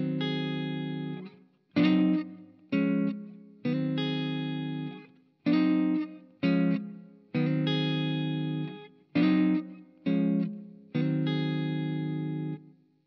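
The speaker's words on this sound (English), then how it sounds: "I'm using hybrid picking there, so that's pinching the strings" Electric guitar with a slightly distorted, effects-laden tone plays a rhythm pattern, hybrid-picked so the strings are pinched, giving clipped, repeated chord stabs with short gaps between them, played alone and up close.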